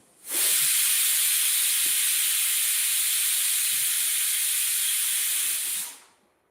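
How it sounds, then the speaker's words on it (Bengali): A pressure cooker cooking mutton lets out a long, loud, steady hiss of whistling steam lasting several seconds, then cuts off abruptly, with faint background sounds underneath. "তুমি কি সিটি গুনে ঠিক করলে নাকি যে মটন হচ্ছে আসলে অনেকগুলো সিটি পড়ছে"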